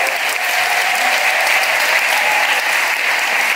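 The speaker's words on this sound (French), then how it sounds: "On vous applaudit très fort." Loud, dense applause from a live audience for contestants at the final of a public speaking competition, an unbroken roar of clapping held at steady strength throughout.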